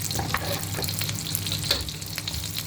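A large batch of onions fries in a pan until brown for biryani, a dense, even sizzle heard close up with soft stirring scrapes throughout and no talking.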